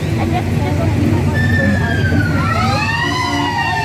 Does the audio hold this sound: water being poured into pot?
no